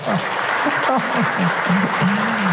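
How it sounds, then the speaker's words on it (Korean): Applause from the audience at a festival awards ceremony, a dense, steady wash of clapping while a voice talks and laughs over it throughout. "저한테도 박수 한번 쳐주세요"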